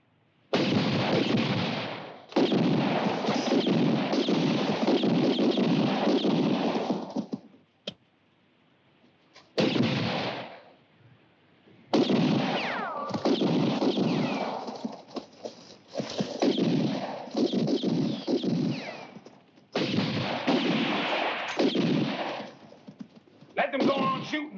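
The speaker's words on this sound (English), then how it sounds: "Let them go on shooting. They'll soon run out of ammunition." Gunfire in a western shootout sounds in repeated loud bursts of shots, with horses' hooves clattering and neighing among them, broken by short quiet gaps and dialogue.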